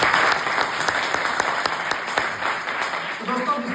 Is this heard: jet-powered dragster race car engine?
no